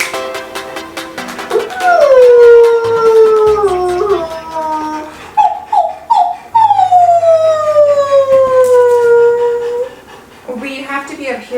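Old English Sheepdogs howl indoors in long rising and falling wails, loud and close, with several overlapping howls and short yips, and a person joins in imitating the howl.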